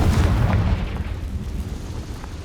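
A Confringo blasting curse explodes in the Hogwarts Legacy video game. A single heavy, booming blast sounds at the start, then a rumbling decay fades away.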